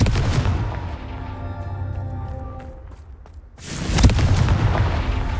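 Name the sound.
Confringo blasting spell explosion from Hogwarts Legacy video game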